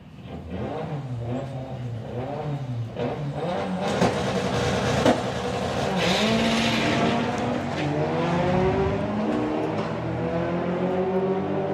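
A grey Volkswagen Golf drag races down the strip at a VW drag racing nationals, its engine revving hard and climbing through gears, loud and sustained with rising pitch sweeps and a brief tire squeal.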